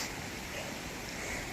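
Rushing waterfalls in the Vermont woods on Dorset Peak, a steady broadband roar of falling water that stays close and constant throughout, with no voices.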